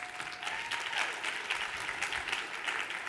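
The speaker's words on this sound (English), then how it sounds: "Let's first give a round of applause to New World Title, David Kurz as well, please." An audience at a guest-speaker event gives a round of applause for New World Title and David Kurz, a continuous wash of many hands clapping at moderate volume without a break.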